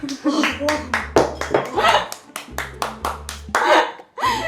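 Hands clap in a quick, uneven series of sharp, close slaps, mixed with voices talking and laughing in a home kitchen.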